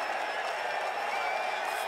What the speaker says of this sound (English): That's as loud a cheer as you'll get when a player walks up on this tee